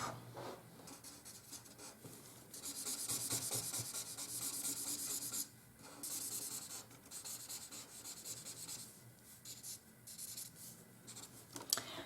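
Graph'it alcohol markers colouring on paper, with close, quiet scratchy rubbing strokes in long sweeping passes and brief pauses between them.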